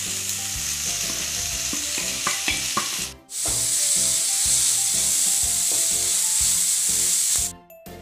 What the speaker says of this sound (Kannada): ಟೊಮೆಟೊ ಹಾಕಿ, ಇದನ್ನು ಚೆಂದ ಮಾಡಿ ಫ್ರೈ ಮಾಡಿ.